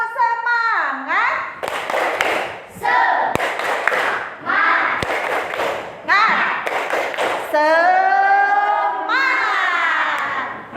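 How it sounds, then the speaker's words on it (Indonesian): Indonesian schoolchildren in a classroom perform a rhythmic clapping chant led by their teacher, sharp bursts of group claps alternating with sung chanted phrases in a lively, patterned rhythm. "Tepuk semangat."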